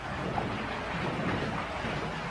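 Dense, steady wash of rain falling outside, loud and close, filling the short stretch as an even roar with no voices over it.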